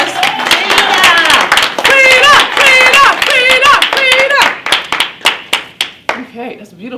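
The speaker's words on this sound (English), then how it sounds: "Give Frida a round of applause" Clapping at a motivational speaking event comes under a loud speaking voice at first, then continues alone as sharp, separate claps that gradually slow and fade.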